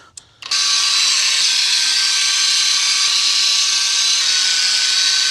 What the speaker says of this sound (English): The surface conditioning tool took all the paint off.